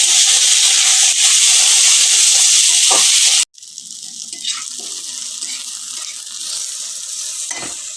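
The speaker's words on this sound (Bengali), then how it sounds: "এটাকে আমি এখন হালকা করে একটু ভেজে নেবো" Tomato, ginger and garlic lightly frying in a pan give a steady, close sizzling hiss that cuts out briefly partway through, then carries on a little quieter with faint scrapes.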